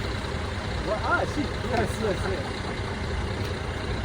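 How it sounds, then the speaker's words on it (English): Low, steady engine rumble heard from inside a moving truck, a constant close drone beneath someone speaking briefly and other voices. "This is such a difference going in the truck like that"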